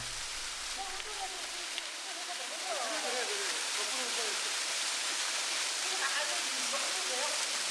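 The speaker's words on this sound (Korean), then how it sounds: "용이 승천하면서 남겼다는 용추폭포입니다." Yongchu Falls in Mureung Valley on Dutasan, Korea, pours out a steady, close, broadband rush of falling water that fills the whole clip, with voices speaking faintly beneath it.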